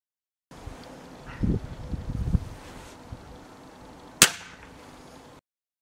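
A Gamo Delta Fox Whisper break-barrel air rifle fires a .177 wadcutter pellet outdoors, one sharp, brief crack standing out after some handling rustle and wind noise.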